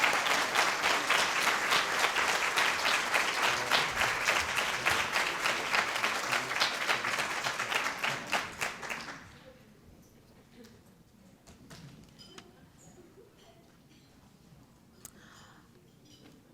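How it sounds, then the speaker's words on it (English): Applause from a luncheon crowd at a volunteer recognition event, loud sustained clapping for about nine seconds before fading into a quiet room with faint murmur. "Please give him a round of applause."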